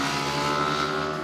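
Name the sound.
Yamaha R125 motorcycle engine revving hard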